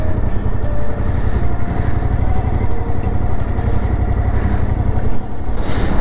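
Motorcycle riding onto a ferry, its engine a close, loud, steady rumble that holds throughout with slight throttle variations and no speech.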